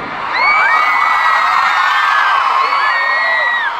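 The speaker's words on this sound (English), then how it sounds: "Big scream in this big stadium." A packed stadium crowd at a concert at the Rose Bowl screams and cheers in one loud sustained roar, with high shrieks and whoops rising and falling throughout.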